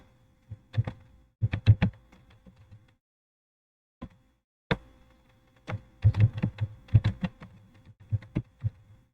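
Keys clatter on a computer keyboard while text is typed into an Excel text box, in two bursts of quick, close, uneven strokes separated by a pause, with no voices.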